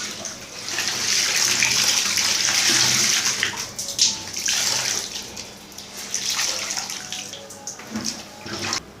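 Tap water gushes into a metal bucket for rinsing washed clothes, a steady hissing rush with a fluctuating splash as the level rises, close by with no talking.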